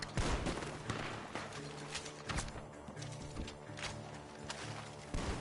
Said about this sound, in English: The gunshots are coming from that far.